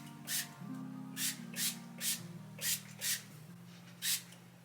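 Leave-in conditioner is misted onto hair from a spray bottle in about seven short, separate bursts, moderately close, over a low steady hum in the background.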